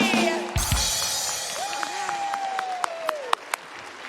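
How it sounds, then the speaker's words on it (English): Audience applause for youth performers at a sign-language event, a moderately loud wash of clapping that fades gradually, with a few sharp claps standing out and some tonal sounds over it. "Let's give these kids a round of applause, everybody!"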